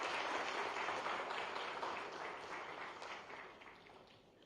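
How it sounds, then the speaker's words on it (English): An audience at a town planners' conference in Ahmedabad applauds the Chief Minister, a broad wash of clapping from a large hall that holds steady and then gradually fades away. "Please give sir a round of applause."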